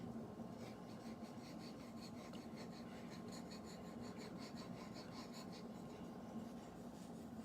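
A hunting knife is polished with slow, steady back-and-forth sweeping strokes, giving a continuous soft raspy rubbing that stays close and even throughout without any talk.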